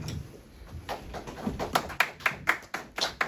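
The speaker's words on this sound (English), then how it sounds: "A round of applause for Mr. Kwesiga, everyone." Audience at a Ugandan community convention in Birmingham clapping in applause, a steady crowd patter building into sharper, louder claps toward the end, with a faint tone running throughout.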